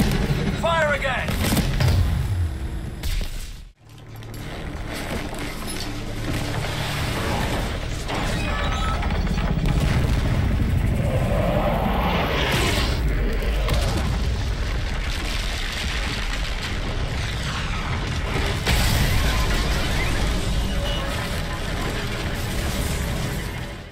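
Tank cannon fire and explosions in a Call of Duty battle against tanks, choppers and infantry, a dense, continuous roar of blasts and rumbling mechanisms with a sharp cutoff near the start, under loud game voices calling out orders.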